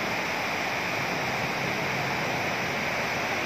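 Steady rushing of clear river water in cool pine-covered mountains, a constant broadband wash close by with no breaks.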